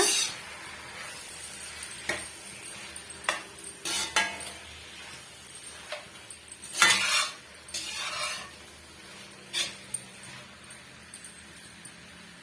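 Chicken pieces are sautéed in a pan, with repeated scraping stirs and metallic clinks of a spoon against the pan over a low, quiet sizzle.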